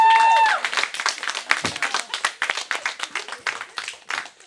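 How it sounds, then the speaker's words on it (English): After a panel discussion, an audience gives a round of applause: brief loud tone at the start, then dozens of distinct claps in an irregular, thinning rhythm, moderately close, fading unevenly toward the end. "Why don't we give a round of applause?"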